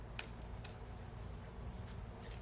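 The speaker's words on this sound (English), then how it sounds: "you're probably hearing me shuffle cards" A deck of cards shuffled close by, soft rhythmic riffles and flutters repeating over a low steady background hum, with no voices.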